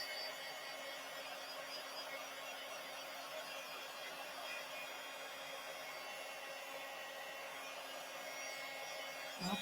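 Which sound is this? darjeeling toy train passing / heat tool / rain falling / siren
heat tool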